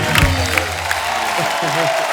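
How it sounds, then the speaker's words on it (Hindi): A studio audience on a comedy talk show applauds and cheers the guests, a loud, full burst of clapping with a few whoops and voices mixed through it. "एक बार जोरदार तालियां हमारे मेहमानों के लिए"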